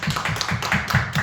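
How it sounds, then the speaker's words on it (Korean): Applause at a church youth service welcoming a new member: a small group claps in a steady, fairly even rhythm, close and clear, with no talking. "우리 새로운 친구 환영의 박수 하겠습니다"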